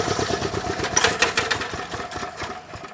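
A Chinese walk-behind tractor engine runs steadily nearby with the clutch pulled in, a continuous chugging mechanical drone with rapid rhythmic pulses and no voices.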